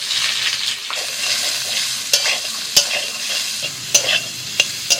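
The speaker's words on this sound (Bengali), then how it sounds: "এবার সয়াবিনটা হালকা করে ভেজে নেব।" Soybean chunks fry in a pan with a steady, close sizzle, punctuated by sharp clicks and scrapes of stirring every second or so, no voices present.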